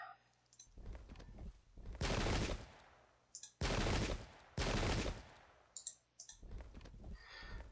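Musket volleys in the Pike and Shot strategy game, Swedes versus Spanish: several loud crackling bursts of massed gunfire arriving in waves, with quieter clicks and scattered shots between them, and no speech.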